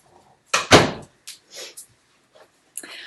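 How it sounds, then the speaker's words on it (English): A door is pushed shut indoors, making a short burst of knocking and scraping followed by a few smaller bumps and clicks, with quiet gaps in between. "I'm going to shut my door."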